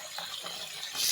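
Water is poured into a pot while making chicken soup, a short soft splashing gush that swells louder at the end, with no talk over it.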